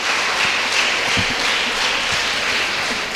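A seated audience at a motivational talk applauds steadily, with dense, sustained clapping from many hands that fills the hall evenly for the whole stretch, and no voices above it.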